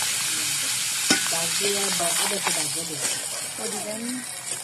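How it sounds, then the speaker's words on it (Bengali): Pond fish fries in a pan with a steady sizzle and hiss, and a few stirring scrapes and clicks. A voice talks over the frying throughout. "নিজেদের পুষ্কুনি মাছ ভাজলাম"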